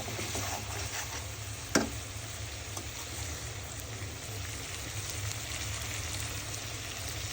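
Beef tripe frying in a pan at home, a steady low sizzle and hiss running throughout with one brief louder clack near the start.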